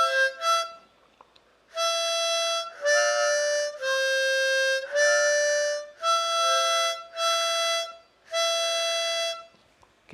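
Harmonica notes on the 5th hole, about seven sustained tones of roughly a second each with short breaths between them, switching back and forth between blow and draw pitches, close and clear, with no speech.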